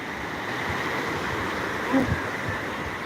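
Sea waves washing against rocks at Malpe beach in the morning, a continuous broad rushing surge with wind noise on the microphone and a slight swell near the middle.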